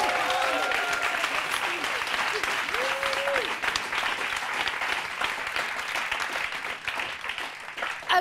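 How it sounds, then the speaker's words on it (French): A television studio audience at a family-themed game show final breaks into sustained, dense applause that fills the whole stretch, loud and continuous, with faint voices mixed in. "et ça vaut des applaudissements."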